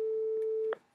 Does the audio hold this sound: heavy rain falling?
no